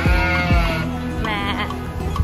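A goat at the Animal Kingdom petting area of Walt Disney World in Orlando bleats several times in quick succession, loud and close, with a busy crowd murmuring behind it.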